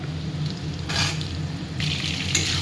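Chopped ridge gourd and pointed gourd frying in a pan with browned onions, a steady close sizzle with brief louder bursts as the pieces are stirred, no talk.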